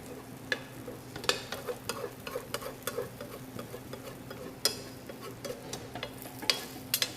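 Fried rice sizzles steadily in a hot pan while a utensil stirs and scrapes it, giving scattered sharp clicks over the constant frying hiss.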